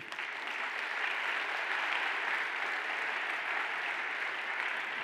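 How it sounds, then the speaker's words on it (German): An audience at an award ceremony applauds steadily, a dense, even wash of clapping from many hands that holds at full strength throughout with no voices over it. "Applaus."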